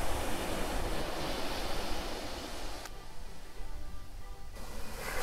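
Sea waves wash ashore on a quiet beach in Higashi-chō, Odawara, a steady broadband surf roar that swells and eases, with wind noise; no talking.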